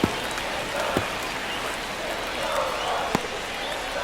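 Crowd at a baseball stadium during a close ninth-inning Guardians versus Royals game, a steady far-off roar of many voices with a few sharp claps or bat cracks, under a commentator's talk.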